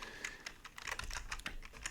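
Rapid typing on a computer keyboard while writing Python code for a Tkinter GUI, a steady run of close, crisp key clicks with no talk.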